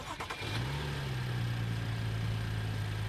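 A BMW F30 with an N55 engine and a performance intake fires up with a brief cranking burst, then settles into a steady, fairly loud idle that hums on alone.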